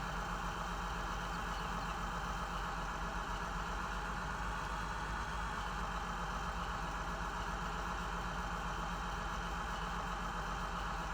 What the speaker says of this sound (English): Start the engine's probably a good start.